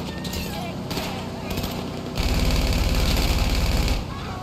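Gunfire in GTA 5 Online: rapid automatic shooting rattles loudly and continuously, swelling into a heavier, denser burst in the middle, with game noise underneath.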